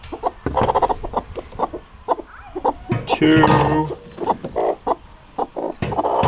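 Farm chickens clucking close by on a pasture, a busy run of short clucks and calls with a louder burst in the middle, while people talk and count over them.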